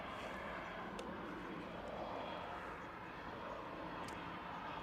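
Steady, faint engine roar of a Eurowings jet at Manchester Airport, heard from a distance as an even wash of sound with little change.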